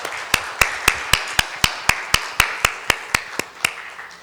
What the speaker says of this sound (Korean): 이분들을 위해서 한번 감사의 박수를 한번 하겠습니다